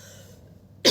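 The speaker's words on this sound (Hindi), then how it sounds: "सॉरी खांसी हो जा रहा है" A single short cough from a man, close and abrupt, right at the end after a quiet moment.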